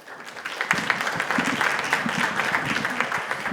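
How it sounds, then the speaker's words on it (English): A crowd applauding steadily, a dense wash of clapping that swells in and holds at a fairly loud level for several seconds. "a round of applause"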